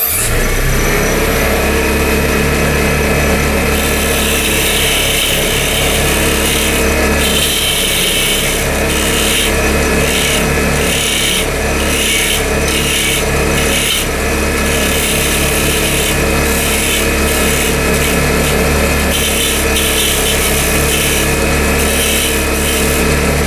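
A wood lathe spins a segmented bowl while the foot is shaped, a loud steady motor whine with a constant hum and intermittent scraping cuts from the tool, close by.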